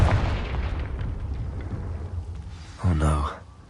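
A Confringo explosive spell in the Hogwarts Legacy video game lands as a sudden heavy boom near the end. It comes after a stretch of quieter game sounds with some voice.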